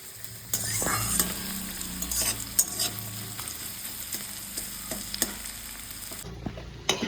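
Onion frying with salt and sugar in a pan for ghugni, an ongoing sizzle with frequent stirring scrapes and clinks of a spoon against the pan, heard close up with no talking.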